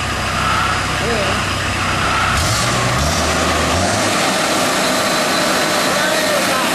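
An Allen HDX 600 engine runs steadily at half throttle while warming up, a loud continuous drone that shifts pitch partway through as the load changes.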